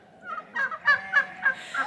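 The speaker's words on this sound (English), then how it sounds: "Yes, turkeys." Several turkeys on a homestead gobble in a run of loud, rapid bursts, one call following another across the clip with no talking over them.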